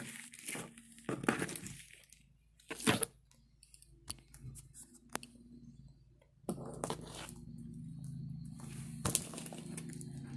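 A new keyboard's packaging is opened, with crinkling plastic, tearing and rustling in uneven bursts, and a steady low hum behind.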